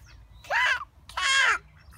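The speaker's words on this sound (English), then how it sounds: "this one's a goose. It's a goose." A goose honks twice, two loud, nasal calls separated by a short pause, close by against faint background noise.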